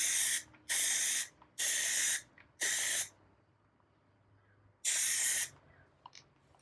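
Aerosol Plastidip being sprayed onto a Tesla Model Y emblem from about a foot away: five loud, close hissing bursts, each roughly half a second long, with short quiet gaps between them.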